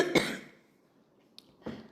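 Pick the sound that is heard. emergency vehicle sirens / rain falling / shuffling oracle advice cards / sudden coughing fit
sudden coughing fit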